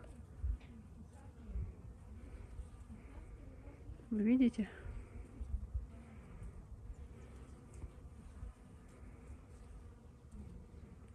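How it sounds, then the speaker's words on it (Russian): Bees buzzing outdoors in a nature spot in Israel, a faint continuous hum under a woman's brief speech, with low outdoor rumble throughout. "Тут жизнь кипит тоже у пчелок."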